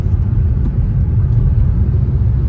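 A car cruises along a highway on the road between Porbandar and Junagadh with a minor tyre puncture, giving a steady, loud, low rumble of engine and road noise from inside the vehicle, with no talking.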